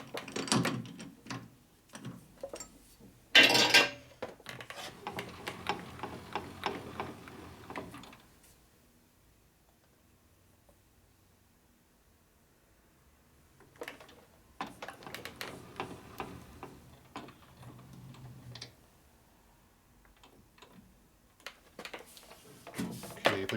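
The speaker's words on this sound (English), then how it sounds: "we're going to put this in the lathe, chuck it up off of that lip right here, and we're going to shave off 15 thou" A lathe takes a 15-thou cut off a part for a 1980 Harley-Davidson shovelhead 92ci stroker top end, giving a steady mechanical whirring and grinding in two long stretches with a quiet pause between and no talking.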